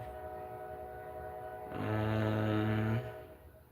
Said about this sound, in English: Loud ass fucking train.